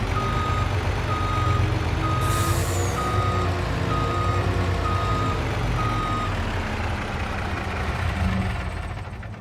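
A large Mack truck in Farming Simulator 25 rumbles at a steady idle after starting up, while a reversing alarm beeps in an even, repeating pattern throughout, with no voices.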